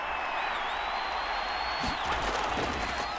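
Steady roar of a stadium crowd in a Madden NFL game between the Minnesota Vikings and Detroit Lions, a dense continuous wash with a brief swell of louder cheering partway through.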